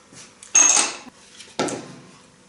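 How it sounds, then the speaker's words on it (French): Coconut oil and lemon juice are stirred into a raw chocolate paste in a bowl, giving two separate bursts of scraping and clinking from a utensil against the dish, close and fairly loud, with quiet pauses between. "je vais ajouter l'huile de coco et le jus de citron jusqu'à ce que tout soit bien homogène"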